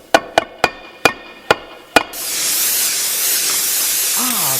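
An old-time radio sound effect of a Christmas tree being sprayed: six sharp knocks in a steady rhythm, then a loud, sustained spray hiss that runs to the end while a faint voice rises and falls beneath it.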